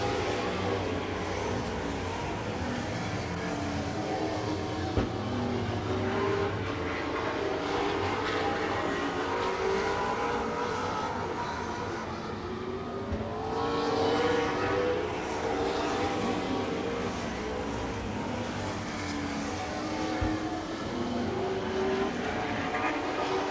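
Stock cars race at Grundy County Speedway in a continuous, distant roar of several engines whose pitch rises and falls as they pass, with crowd and track noise underneath.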